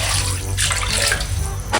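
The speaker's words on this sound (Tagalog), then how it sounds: "Lalagay na po ako ng tubig." Water runs into a cooking pan for a squid noodle broth, a steady splashing gush with a brief louder burst near the end, no talking.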